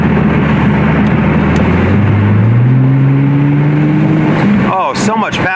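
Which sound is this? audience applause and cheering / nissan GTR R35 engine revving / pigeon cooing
nissan GTR R35 engine revving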